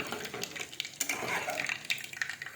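Cumin seeds frying in a pan for a potato fry: a soft close sizzle with light crackles and faint stirring clicks, continuous and quiet, without speech.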